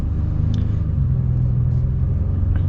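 A 2025 Honda Ridgeline pickup heard from inside the cab as it drives and turns, with a steady low engine and road rumble and no talking.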